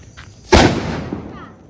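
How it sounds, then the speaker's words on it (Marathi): A Diwali firecracker bursts in one loud, sharp bang that leaves a short crackling, rumbling tail. "मी सांगतो हे फटाके जमा कर ऋषी."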